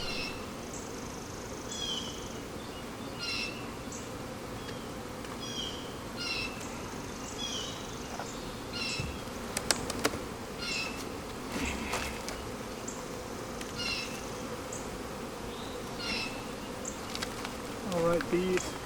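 Honeybees swarm around an opened hive during spring work, a steady close buzz with individual bees whining past the microphone, quiet overall with a few faint clicks and handling noises.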